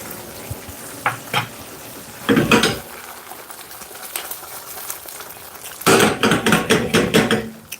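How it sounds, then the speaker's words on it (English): Butter hitting a hot pan while a Jamaican steamed fish is cooked, giving bursts of sizzling and frying crackle in two loud spells with clattering pan and utensil knocks between them, no talking. "I'm gonna add a bit of butter to this"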